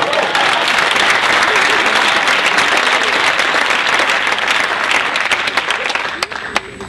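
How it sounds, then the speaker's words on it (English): Steady audience applause at a live comedy-style show in Atlanta, a dense crowd clapping that fades near the end as voices come through. "give him a round of applause"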